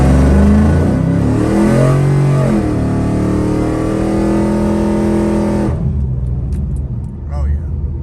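A 2002 Pontiac Trans Am WS6 accelerating hard to warm its tires, a loud close engine roar with rising and shifting revs that drops away suddenly near the end, followed by quieter sounds.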